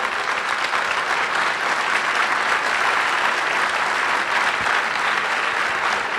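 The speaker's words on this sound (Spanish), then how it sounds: "aplaudan a Dios si quieren" A church congregation bursts into steady, sustained applause, a thick wash of many hands clapping evenly throughout, loud and continuous with no speech on top.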